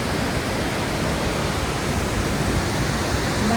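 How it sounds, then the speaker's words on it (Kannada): Jog Falls, where the Sharavati river plunges about 253 metres in four branches, produces a dense, unbroken roar of falling water, loud and constant without pauses or voices. "ಸುಮಾರು 850 ಅಡಿ 253 ಮೀಟರ್ ಎತ್ತರದಿಂದ ಶರಾವತಿ ನದಿಯು 4 ಕವಲುಗಳಾಗಿ ಧುಮುಕುತ್ತದೆ."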